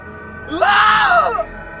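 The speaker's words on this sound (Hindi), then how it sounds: "फिर तुरंत ही हेलेन को एक दर्दनाक चीख सुनाई दी।" A painful scream effect in a Hindi horror story: one loud, rising-then-falling anguished shriek lasting about a second, alone over a low background hum.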